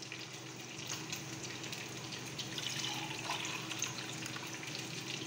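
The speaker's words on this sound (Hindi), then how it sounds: "तो अब मुझे ये डबल जोन से यानी कि 3 गिलास यखनी या पानी डालना है।" Yakhni stock or water poured steadily into a pot of rice for Afghani Qabuli pulao, a continuous soft rushing splash with no break and no talking.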